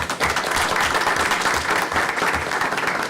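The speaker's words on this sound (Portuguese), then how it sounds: "Uma salva de palmas para você." People at a broadcaster's board of trustees meeting break into applause, a brisk, fairly loud round of clapping that holds steady for about three seconds with no speech over it.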